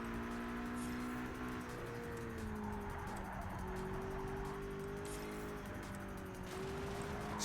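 Race car engine in the video game Project CARS 3, a steady droning hum that rises and falls as it shifts through gears, with a continuous whir over the whole stretch and no voices.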